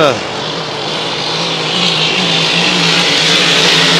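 Racing hydroplanes at the Valleyfield Grand Prix roar at full throttle, producing a loud, continuous, close engine drone with a rising whine that swells steadily.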